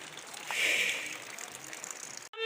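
Heavy rain pours steadily on a village, a dense hiss of water that swells briefly near the start, then settles into a constant wash before cutting off abruptly near the end.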